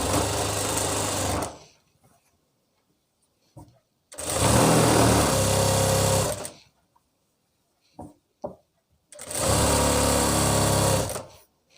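A sewing machine stitches palazzo pants in three loud, steady runs of whirring, each a couple of seconds long, split by quiet pauses with faint handling clicks, close up.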